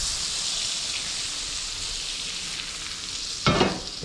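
Vegetables fry in a hot pan with a steady, close hiss, like rain on a surface. Near the end comes a brief louder burst of crackling as they are stirred.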